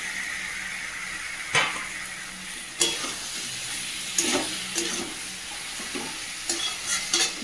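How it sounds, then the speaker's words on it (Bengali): Fried meat added to spiced oil in a pan, with steady sizzling and frying under repeated scraping stirs of a spoon against the pan. The stirs come every second or so, close and fairly loud. "মশলা থেকে তেল ছেড়ে দিয়েছে, ভেজে রাখা মাংসগুলো সবার প্রথমে দিয়ে দেব।"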